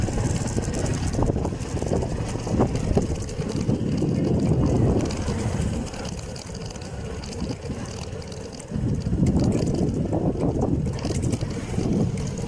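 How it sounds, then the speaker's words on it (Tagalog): Strong wind roars and buffets the microphone in heavy gusts in Davao, with a brief lull midway before the blustering rises again. "Sobrang lakas po ng hangin ngayon."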